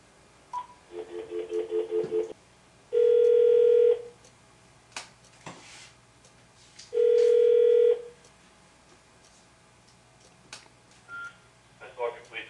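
Telephone line tones after a hang-up: a burst of DTMF-like dial beeps, then two long steady tones about four seconds apart, with faint room noise and brief speech between them.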